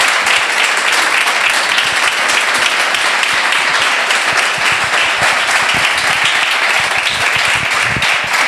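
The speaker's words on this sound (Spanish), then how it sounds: "por favor, un fuerte aplauso, pero de corazón" An audience at a Spanish-language masterclass on artificial intelligence and quantum computing claps warmly to welcome a speaker, a dense, sustained round of applause from many hands that holds steady throughout.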